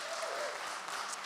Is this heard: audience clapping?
yes